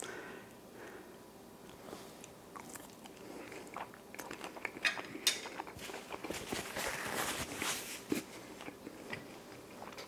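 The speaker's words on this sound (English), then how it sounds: "I'll take a smaller bite this time." Close crunchy biting and chewing of a crispy fried Mexicano, a spicy Dutch snack, dipped in peanut sauce, with repeated soft crackles and munching that grow busier midway.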